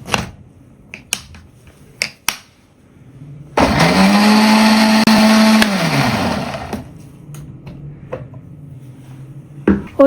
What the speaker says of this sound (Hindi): थोड़ा सा ऑयल मिक्सी में डाल दिया। अब इसे ब्लेंड कर लें।